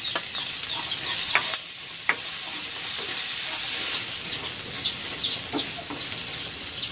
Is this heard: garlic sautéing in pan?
yes